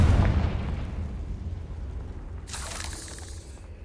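Confringo fire spell in the video game Hogwarts Legacy: a booming low burst at the start fading away, followed by a brighter crackling flare around 2.5 seconds.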